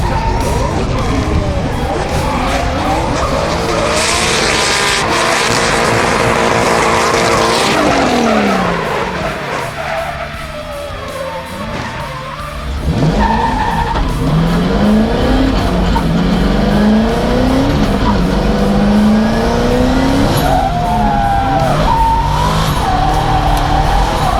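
A drift car at a Lithuanian drifting competition screams through a loud run, engine revving and tire squeal sweeping up and down, with a brief drop before the racket resumes.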